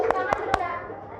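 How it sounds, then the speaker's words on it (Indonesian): Three sharp hand claps from classmates in an Indonesian classroom, close by, with a lingering room tone fading after. "terima kasih untuk berikan tepuk tangan yang meriah dong untuk temannya ini"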